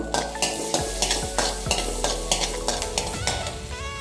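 Curry leaves fry in melted butter for pav bhaji, a steady sizzle with repeated scraping strokes of a spoon stirring the pan, close and busy, with no talk.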